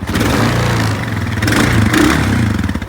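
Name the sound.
Honda DCT motorcycle transmission jammed and slipping in gear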